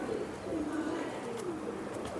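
A pigeon coos softly in low, rolling notes, repeated a few times against a steady background hum, close by but faint.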